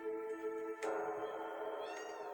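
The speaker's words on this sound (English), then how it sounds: "this place is chock full of cats" Several cats meow in a crowded house in the Final Fantasy VII video game, a clear drawn-out cry and then a second overlapping call, close and alone.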